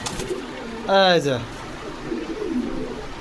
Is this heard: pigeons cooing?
yes